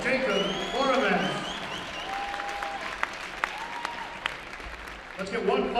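Crowd applause fills a high school basketball gym for a departing basketball senior, Tonganoxie vs. Paola, swelling then holding steady while an announcer's voice carries over it.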